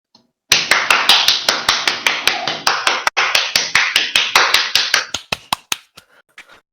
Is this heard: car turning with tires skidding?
no